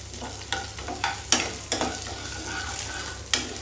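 Ginger garlic paste fries in a pan for mango pulihora, a quiet low sizzle with scattered sharp scraping taps as it is stirred, heard close and fairly faint without speech.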